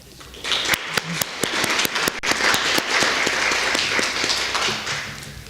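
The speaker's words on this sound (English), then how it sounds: "Let's give these outstanding students a round of applause." Loud crowd applause, dense clapping building quickly and sustained, with sharp individual claps standing out near the front.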